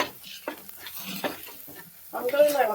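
Chili being stirred into curry frying in a pan, a spoon scraping and turning the food in bursts over a light sizzle, close and fairly loud.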